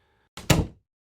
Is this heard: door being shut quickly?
yes